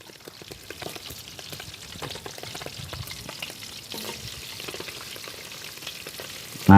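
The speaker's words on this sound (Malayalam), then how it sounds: "കൂന്തൽ നല്ല പൊട്ടിത്തെറിക്കും." Squid frying Kerala style in a pan crackles and spatters continuously at close range, a dense hiss of popping oil that builds slightly toward the end, with no voices.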